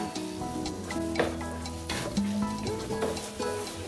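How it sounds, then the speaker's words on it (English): A spoon stirs a rice mixture in a pot for baked chicken and rice, giving soft, repeated scraping and sloshing strokes under steady background music. "Mix all this together."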